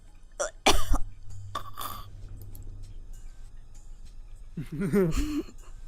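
A voice imitates harsh, intense coughing in a few sharp bursts, followed by a retching, gagging vocal sound near the end.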